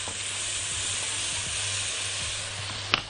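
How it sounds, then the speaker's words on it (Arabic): Onions sautéed briefly in a pan, a steady close hiss of frying with soft stirring touches and one sharp clink near the end. "مجرد بس تشويحة سريعة جدا"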